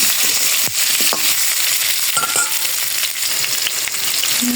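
Boiled potato and papaya pieces fry in a pan. A loud, continuous sizzle is broken by a few clinks and scrapes from stirring, all close to the mic, with no talking.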